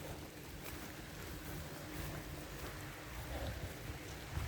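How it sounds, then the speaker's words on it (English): Steady rain hiss with a faint patter, continuous and even throughout, outdoors with no voices. "it's raining"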